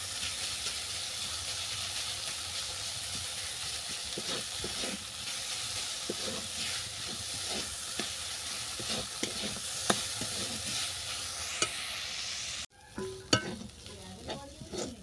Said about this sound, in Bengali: দেখো বিনস আর আলু কষাতে কষাতে সেদ্ধ হয়ে গেছে